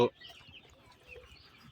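Poultry-farm chickens cluck softly and intermittently, faint and scattered, after a brief loud sound at the very start.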